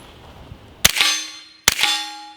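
Two suppressed rifle shots firing 147-grain subsonic ammunition, each a sharp crack followed by a metallic ring and short decay, spaced under a second apart and close by.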